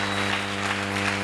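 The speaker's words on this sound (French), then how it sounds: "Est-ce que nous pouvons bien acclamer pour la Seigneur?" Congregation in a church applauding together, a dense steady wash of clapping over a sustained low tonal hum, with no gaps across the short stretch.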